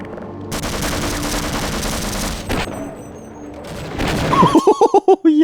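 Rapid gunfire from a Half-Life mod video game rattles out in a loud, continuous burst, then gives way to a few separate sharp shots near the end.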